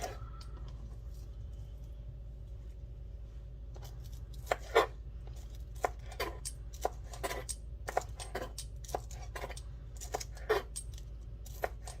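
A knife chops green onions on a board in a quiet kitchen, with sharp, faint taps coming in irregular bursts over a low hum after a few seconds of near silence.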